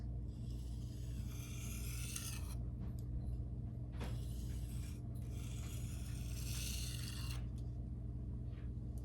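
A knife is hand-sharpened on Shapton Glass and Naniwa whetstones with back-and-forth passes for burr removal, giving repeated gritty rasping strokes in bursts over a low steady background hum.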